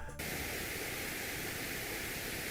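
Pink noise, a steady broadband hiss that sounds softer and less sharp than white noise, plays loud and continuous after a brief gap at the start, with no other sounds.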